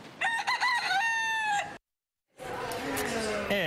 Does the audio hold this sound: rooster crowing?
yes